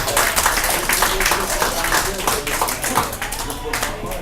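Steady audience applause at a small café show, broadband clapping at an even, moderately loud level throughout, welcoming a DJ onto the stage, with no talk rising above it.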